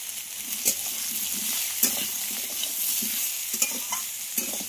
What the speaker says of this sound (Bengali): লবণ দিয়ে কিছুক্ষণ ভাজার পরে